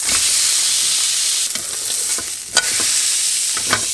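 Meat seared in olive oil in a pan, flipped partway through, giving a loud, steady close sizzle and hiss with a few scraping stirs and clatters over it.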